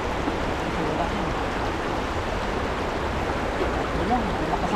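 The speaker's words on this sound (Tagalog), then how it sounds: "malakas ang agos. Lakas ng agos." A strong river current rushes steadily close by, a dense continuous roar of flowing water with no pauses.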